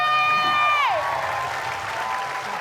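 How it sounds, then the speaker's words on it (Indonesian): Studio audience on a TV comedy show applauds, with a sliding synthesized stinger tone sweeping downward at the start before the clapping carries on alone, moderately loud. "Sekali lagi tepuk tangan boleh untuk Rocky."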